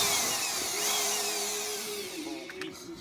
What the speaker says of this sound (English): Get all the screws out.